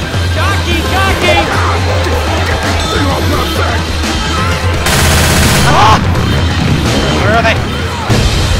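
Shotgun blasts in a video game, mixed into a chaotic, loud din of gunfire and crashes that stays steady throughout, with a sharp burst near the middle and voices shouting over the action.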